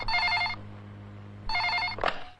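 A telephone bell rings in two short bursts separated by a pause, followed by a brief clatter like the handset being picked up.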